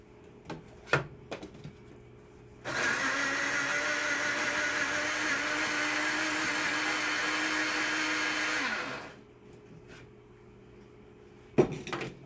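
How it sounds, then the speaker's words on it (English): An electric mixer churns Plistix 900F refractory in a bucket, switching on abruptly with a steady loud whir that runs for about six seconds before winding down, with a few knocks and clatters before and after. "I like this mixer. No matter how much I stir it with a spoon, it does not get as well mixed as this."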